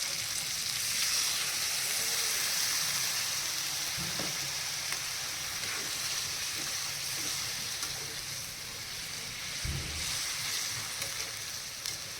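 Hot water goes into a pan where spices fried in oil for a chicken curry are sizzling. A constant close hiss continues, with a couple of brief splashy bursts partway through and no talking.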